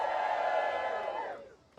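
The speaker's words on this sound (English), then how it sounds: "Go ahead, cheer." A crowd at the Des Moines Register Political Soapbox in Iowa cheers and whoops in a sustained swell that fades out, followed by a brief burst of noise.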